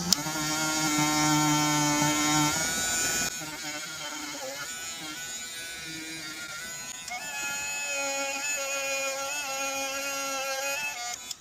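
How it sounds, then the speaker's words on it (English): A small felt polishing wheel on a rotary tool buffs a brass button, giving a steady high whine that shifts pitch partway through as the load changes, with no talking. "now I have just a little felt polishing wheel here. I'm gonna try to polish up the brass"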